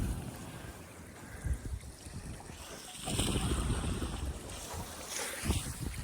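An IMOCA-style racing sailboat glides over a calm ocean during the New York Vendée race, with water swishing along the hull and gusty wind buffeting the microphone in uneven surges.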